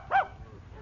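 A dog in a radio drama courtroom scene gives a single short, close bark over a quiet background hum.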